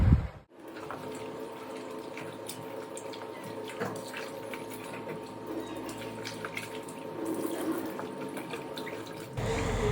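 Water from a kitchen tap runs steadily into a sink while raw chicken is washed, a continuous splashing stream that starts after a brief pause and stops abruptly near the end.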